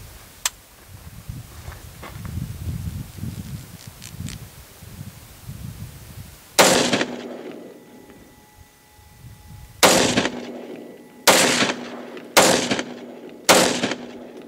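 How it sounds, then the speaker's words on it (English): Ruger Mini-14 rifle fired into the dirt in the desert: after a stretch of quiet rustling, five loud, sharp gunshots crack out close by at uneven intervals, each leaving a brief ringing tail. "How about we just shoot them into the dirt? That's always fun. And I love the sound of this Mini-14."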